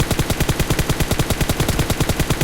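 Full-auto rifle fire in PUBG Mobile, a loud, fast unbroken stream of evenly spaced gunshots hammering close up for the whole stretch, with no voices over it.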